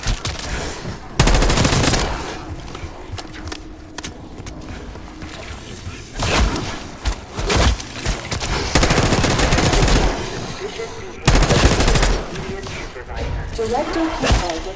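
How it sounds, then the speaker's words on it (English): Bursts of automatic gunfire and single shots in Call of Duty: Black Ops 6, loud and intermittent with slams and thuds, under voices talking. "You hearing gunfire?"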